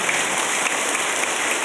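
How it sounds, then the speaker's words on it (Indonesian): A congregation claps for the fathers at a Catholic Corpus Christi Mass on Father's Day, a continuous, even hiss of applause filling the short span without pause. "Marilah kita bagi tepukan kepada Bapak-Bapak kamu."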